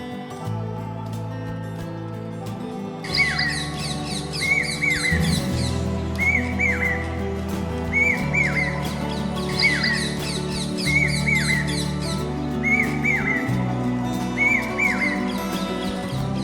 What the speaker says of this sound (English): It means the cuckoo bird chirps.